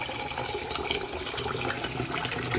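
Cold water runs from a kitchen tap to rinse rice, a steady close splashing and gurgling stream that carries on without pause.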